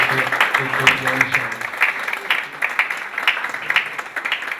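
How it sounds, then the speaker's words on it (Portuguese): Audience applause at an evening public-security event breaks out as steady, dense clapping from a crowd, sustained and fairly loud throughout with a faint voice underneath at the start. "gostaria que todos dessem uma salva de palmas. Receber o senhor doutor Guilherme"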